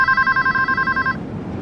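A telephone in a music video rings loudly in one continuous, rapidly trilling burst that stops abruptly after about a second, leaving low background noise.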